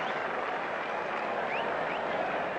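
A cricket crowd at a 1990 England versus India Test match applauds Kapil Dev after a fantastic over, steady sustained clapping filling the ground at a moderate distance with no voices on top.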